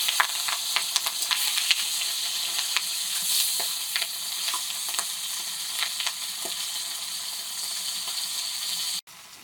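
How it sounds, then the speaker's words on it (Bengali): Roe-filled bata fish frying in a pan make a steady, close sizzle with scattered crackling spits, continuing evenly until it cuts off abruptly near the end. "মাছগুলো ভাজি ভাজি হয়ে গেছে,"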